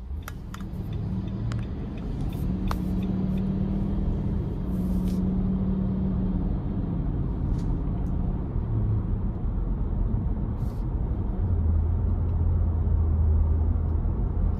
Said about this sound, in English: take this 2023 Armada SV out on the road for a quick test drive.